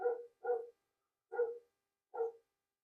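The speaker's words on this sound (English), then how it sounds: "my dog's outside barking at the coyotes" A dog barks outdoors at coyotes, four separate barks, the first two close together and then two more spaced about a second apart, moderately distant against otherwise quiet surroundings.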